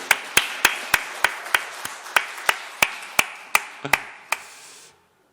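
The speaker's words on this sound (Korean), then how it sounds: "우리 박수 한번 해주세요." Congregation at a Sunday service in a Baptist church clapping together in a steady rhythm: about fourteen sharp, even claps over several seconds, close and crisp, then stopping abruptly into silence.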